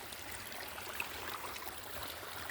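Small waterfall in a woodland creek, a steady broadband rush of falling water, soft and continuous with faint splashes, no voices.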